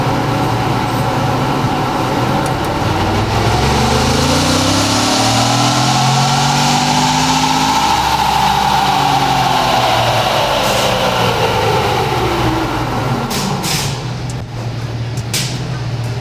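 A Ford Bronco 2.7L engine is run up on a dyno in one long pull, its loud, steady roar sweeping up in pitch to a peak and then falling back as the revs drop, with faint clicks near the end.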